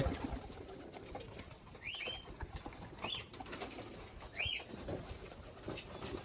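Soft coos from female pigeons being fed come a few times over a low, noisy background, with some light fluttering and rustling between them.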